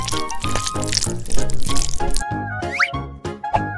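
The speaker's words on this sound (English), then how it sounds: "Let's add some oil!" Oil poured into a pan for frying donuts, a bright splashing pour with plops and crackles over background music, close and fairly loud.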